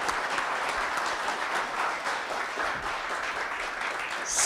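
Sustained applause from an audience at a corporate innovation showcase event, a dense, steady wash of many hands clapping that holds level for several seconds and swells slightly at the end.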